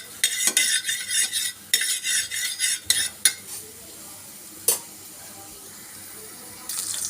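Dried fish dry-roasting in a pan while being stirred, bursts of scraping and rattling with spoon clinks, broken by pauses and fading to near quiet before a final scrape.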